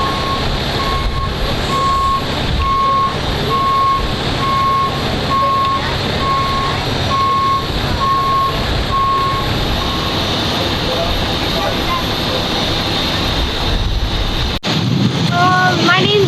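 Fire truck at a campground fire in Pacific Beach, sounding evenly spaced reversing beeps over a heavy engine and wind rumble, with distant voices faint underneath and a sudden change near the end.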